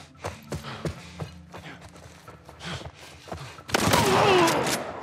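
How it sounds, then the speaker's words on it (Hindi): Shotgun fire in The Last of Us Part II, with a loud broadband burst near the end after a stretch of lighter game noises and faint footsteps. "मैं यूज करना नहीं चाहता था shotgun but I have no choice"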